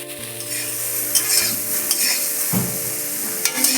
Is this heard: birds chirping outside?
no